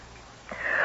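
A sneeze in a radio drama, set in a dusty attic lit by a single overhead light, bursts out loud and close near the end after a quiet sharp inhale.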